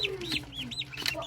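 A group of young turkey poults gives shrill, overlapping peeps close by, a rapid run of rising and falling chirps over a low background hum.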